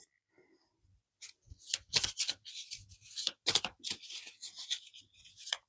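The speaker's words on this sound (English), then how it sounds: "Messy with my card shuffling here." Tarot cards riffled and shuffled in a series of crisp, papery bursts, close up, with brief pauses between; no talking.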